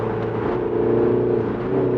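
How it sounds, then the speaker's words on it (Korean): A MINI JCW Countryman engine in sport mode gives a deep, resonant steady drone with a slight swell in revs, heard close from inside the car with no talking. "엔진 소리도 좀 더 굵고 울림이 있죠."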